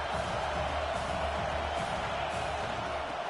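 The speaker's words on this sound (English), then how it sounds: "this home crowd is fired up and ready to make a difference today" Home crowd at a football game against Tennessee, a broad steady roar of cheering filling the stadium, with faint talk mixed in.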